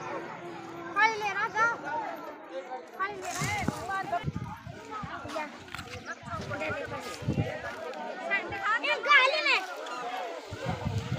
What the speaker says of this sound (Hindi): बहुत ज्यादा हो रही है भीड़